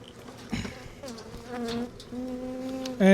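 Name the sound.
bees buzzing around a hive box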